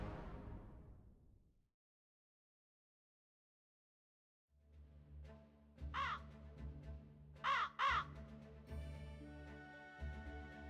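Birds caw in a video game: after a fading tone and a brief silence, a low ambient hum rises and several sharp crow-like caws ring out in quick pairs, fairly faint and without talk.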